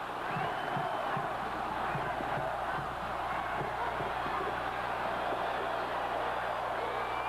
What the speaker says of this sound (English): They have the crowd back into this football game